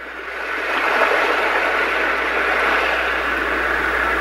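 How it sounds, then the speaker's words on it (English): A Roffie white noise sound machine playing its ocean waves setting: a loud, steady, broadband wash that swells in over the first half second and then holds even and continuous, with no voices. "If you like the sound of ocean waves crashing against the beach, if that helps you sleep, that's good to play."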